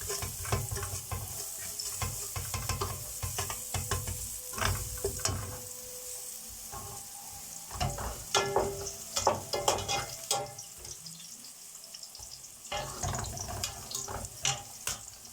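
Garlic frying in a little oil alongside eggplant, a steady close sizzle broken by frequent scraping stirs and clinks of the utensil against the pan, with no talking.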